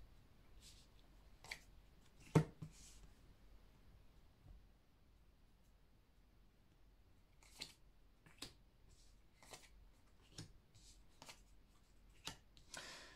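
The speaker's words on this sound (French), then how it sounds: "on va prendre quelques cartes" Cards are handled and laid out for a reading in a quiet room, with faint, sparse slaps and swishes of cards being placed, one louder snap, and short shuffling bursts scattered across the quiet.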